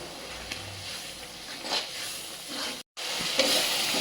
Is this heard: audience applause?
no